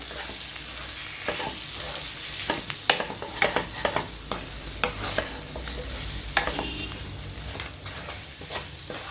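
Potatoes are stir-fried with roasted fennel spice powder for a wedding-style potato pepper fry, a steady near sizzle broken by repeated clinks and scrapes of a spatula against the pan in an irregular rhythm.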